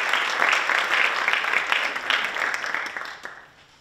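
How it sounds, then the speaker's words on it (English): Applause from the audience for a judge at a university scholarship pageant, dense clapping that holds steady and then fades out toward the end. "Please give a round of applause for judge number two"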